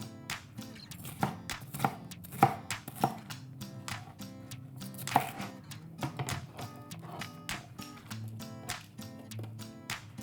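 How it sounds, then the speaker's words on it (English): A knife chops a chipotle pepper into chunks on a cutting board, giving a steady run of sharp, close taps with short pauses between bursts. "So we're just gonna cut that up into some chunks and pop that in"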